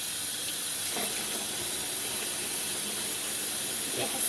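Running tap water rinsing a vintage baby doll in a sink, a steady, close hiss of flowing water lasting the whole stretch with slight splashy variations as the stream hits the doll.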